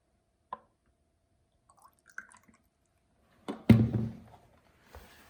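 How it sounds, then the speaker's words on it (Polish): A single drip, a few faint clinks, then a short gush of water poured into a small test vial, trailing off quickly. Quiet, close, no talking. "Tutaj wlejemy wodę z Watersa."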